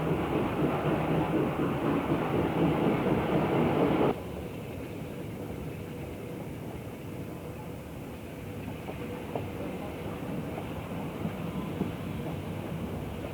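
A Reading Class E4A Camelback 0-8-0 steam locomotive, No. 1412, rebuilt from an 1890s 2-8-0 Consolidation, rolls past with a train: a steady, loud rumbling roar that drops abruptly to a lower, even running noise with faint rail clatter.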